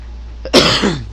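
A single harsh cough, close and loud, preceded by a brief catch of breath.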